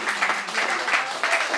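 An audience at a French-language slam poetry tournament claps in a brief, close burst of applause with several rhythmic swells.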